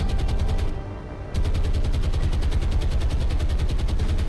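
Anti-aircraft guns fire at attacking aircraft in the War on the Sea naval game, a dense rapid stream of loud shots that pauses briefly near the start, then resumes in steady, evenly spaced bursts.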